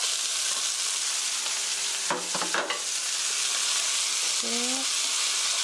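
Chopped onion, carrot and cabbage frying in a pan for a pork curry rice bowl give a steady, even sizzle throughout, with a short burst of stirring clatter in the middle and a faint tonal chirp near the end.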